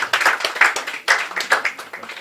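A crowd at a Punjabi book event claps for an award to Jan Kashmiri, with brisk, close applause in quick uneven bursts that fill the whole moment.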